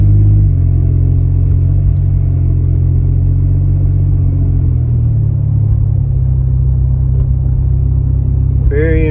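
Ford F150 EcoBoost pickup with an MBRP exhaust, AFE intake and tune accelerating toward a highway, a loud, deep continuous engine and exhaust rumble heard from inside the cab, with a brief rise at the end.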